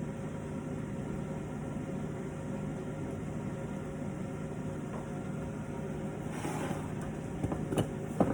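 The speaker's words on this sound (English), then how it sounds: "So it's starting to boil now." Water coming to a boil in a pot on a stove, a steady low rushing hiss with faint bubbling that thickens toward the end, fairly quiet and close with no talking.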